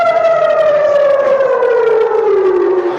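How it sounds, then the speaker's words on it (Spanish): Air raid sirens wail near the Israel–Gaza border, a loud, continuous rising-and-falling tone with strong harmonics that slowly glides downward, filling the whole recording without any talk. "mientras ensordecedoras sirenas antiaéreas suenan de fondo"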